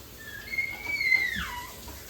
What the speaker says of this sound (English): whistle tones